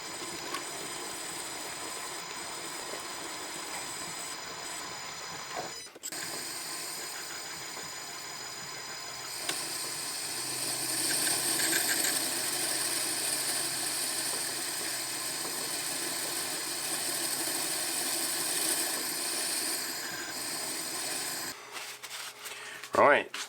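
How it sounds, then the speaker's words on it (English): A 6mm clearance hole with a 10mm recess is drilled on a lathe while building a Hemingway Kit ball turning device. A steady, close machining hiss and whir runs for most of the stretch, with a clunk near the start and knocks at the end. "I've got to put a 6mm hole for the bolt, clearance hole, with a 10mm recess for the head."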